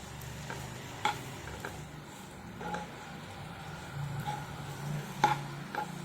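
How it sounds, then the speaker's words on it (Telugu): Potato and brinjal fry being stirred in a pan, a soft background sizzle broken by occasional clinks and scrapes of a spoon against the pan, quiet and close. "బాగా కలుపుకోవాలి."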